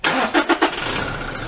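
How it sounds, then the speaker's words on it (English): A car engine cranks in three quick bursts of the starter, then catches and settles into a steady idle, close and fairly loud, after the battery is hooked up as for a jump start. "And we're going to start the car."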